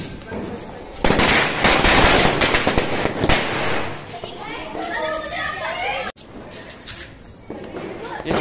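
Diwali firecrackers and anar fountains go off outdoors with bursts of hissing, crackling spray and sharp pops, while children shout and chatter close by under the noise.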